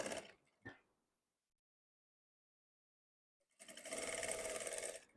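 A sewing machine stitching fabric during a tailoring lesson: a short clatter and thump at first, a long silence, then a loud, steady whirring run of stitching to the end.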